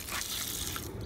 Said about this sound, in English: We're gonna add some little bit water.